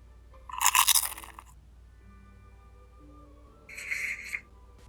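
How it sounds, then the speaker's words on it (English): Two crisp, crunchy bites into a juicy red apple, each a short loud burst, separated by a quiet pause with no talking. "I was chewing and chomping when suddenly I bit down and heard a crack."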